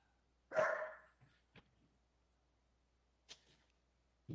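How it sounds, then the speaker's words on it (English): Indoors, a dog gives one sharp, fairly close bark that trails off, followed by a few faint short yips or clicks spaced apart in an otherwise quiet room. "there's my dog"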